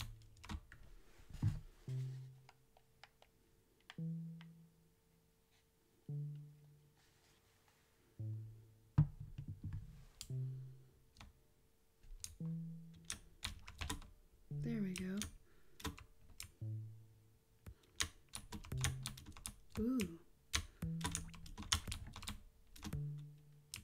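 Steady bursts of computer keyboard typing during a relaxed test livestream, fairly close and moderately loud, coming in rhythmic clusters with short pauses between them.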